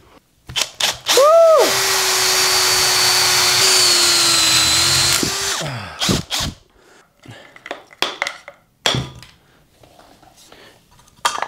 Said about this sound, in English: I'm gonna router this out quickly and get this cover plate to fix